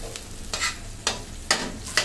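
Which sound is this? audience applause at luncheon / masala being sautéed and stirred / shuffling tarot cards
masala being sautéed and stirred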